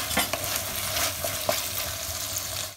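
Salt and pepper being stirred into a sauce in a frying pan for chilli paneer: a continuous close sizzle with a few soft scraping strokes of the spoon.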